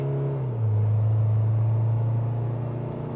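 An Isuzu MU-X with the 2.2-litre MAXFORCE diesel pulls hard under manual-mode gear changes, its steady droning engine tone dipping briefly at a shift and then holding loud and close, no talk.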